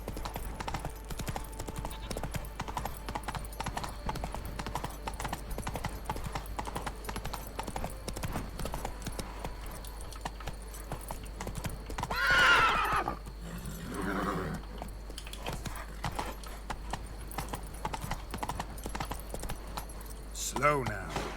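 Horse hooves clip-clop steadily at a gallop through a fantasy game world in The Witcher 3, with a whinny rising around the middle and another near the end, under someone talking over the play.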